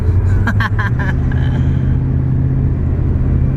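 Car engine rumbling steadily while crawling uphill behind a slow truck on a mountain pass, a low continuous drone with a brief burst of higher noise early on, close and loud throughout.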